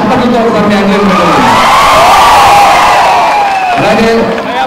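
A packed cinema audience at a film's platinum disc function cheers and claps loudly and continuously, a dense roar of crowd noise with shouts rising and falling throughout.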